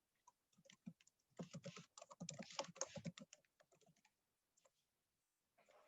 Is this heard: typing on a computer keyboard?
yes